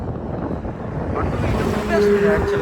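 Steady wind rush buffets the microphone along a road on a hot day, with a low rumble of passing traffic including a lorry and a faint tonal hum swelling near the end.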